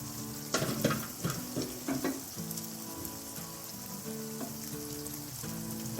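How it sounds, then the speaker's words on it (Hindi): Eggs cooking in a covered pan for an Afghani omelette give a soft, steady sizzle with a few clattering stirs and knocks early on and a faint hum underneath, quiet and close. "अब इसको हम ढक्कन दे के पकाएंगे, स्टीम पे पकेंगे ये सारे।"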